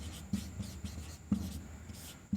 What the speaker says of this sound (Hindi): फिर हम लिखेंगे यूक्लिड